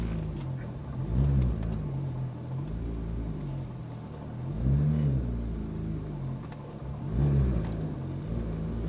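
A Porsche 991 GT3 with an FVD Brombacher side muffler, valve delete and OEM center muffler accelerates in repeated surges, its engine note rising and falling three times at moderate distance with no talk.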